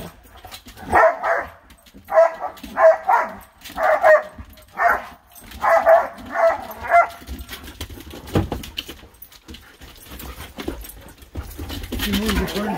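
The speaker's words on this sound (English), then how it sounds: "Is that old Lily that barked at him?" A dog barks loudly in a quick series of sharp, repeated barks, close by, then quieter rustling and faint background noise follow.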